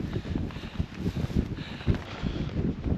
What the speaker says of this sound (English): you can probably tell it's hoorah windy